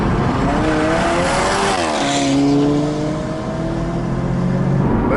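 A 2015 Alfa Romeo 4C Launch Edition's louder exhaust roars steadily as it accelerates, its engine note rising and shifting, up close and with no talking.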